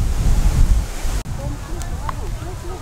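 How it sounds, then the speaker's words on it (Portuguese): Strong wind at a kite festival in Americana roars loudly against the microphone, with a brief dropout midway, while a faint thin whistle rises above the gusts. "Olha a força do vento."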